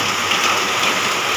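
Heavy rain pours down in a dense, constant hiss, loud and close with no pauses.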